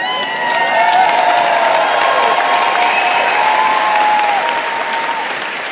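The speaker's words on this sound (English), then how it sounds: "So all this shouting and clapping is fine" A large crowd at a Save Soil gathering in London claps and shouts steadily, dense applause swelling to a loud plateau, with cheers and voices mixed in and easing slightly at the end.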